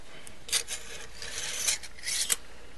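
Fingertip smoothing and tapering the edges of polymer clay for a poinsettia ornament: soft, close rasping rubs in short bursts with brief quiet gaps, no talk.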